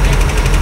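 A Big Block Ford engine runs close and loud, with a fast, steady rhythmic ticking from the exhaust or lifters over a rough idle.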